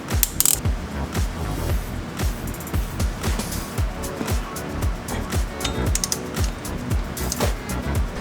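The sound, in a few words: torque wrench tightening clutch pressure plate bolts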